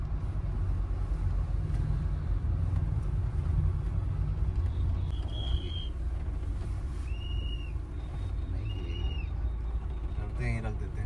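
Heavy Hyva tipper trucks running on a highway construction stretch, a continuous loud low traffic rumble with a few short high whistling tones partway through and a sharp clatter near the end.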